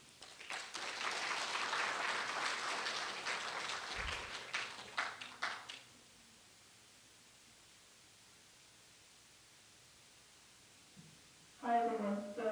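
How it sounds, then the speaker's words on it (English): Applause from a symposium audience after a student's formal research talk, a dense sustained wash of clapping for about six seconds that ends abruptly, followed by near silence and then a brief voice at the end. "Let's give Evani another round of applause, please"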